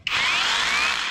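An OSUKA three-mode cordless rotary drill runs at full trigger, a loud, steady high-pitched motor whine close up with a slight rising tone, alone without talk.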